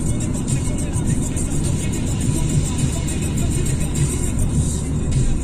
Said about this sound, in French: On va accélérer un peu pour la montée